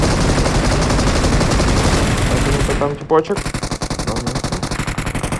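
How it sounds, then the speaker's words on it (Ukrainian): Rapid automatic gunfire in the mobile game PUBG Mobile rattles loudly and continuously, pauses briefly, then resumes in quick bursts while players talk over it. "Ти по кому стріляєш?"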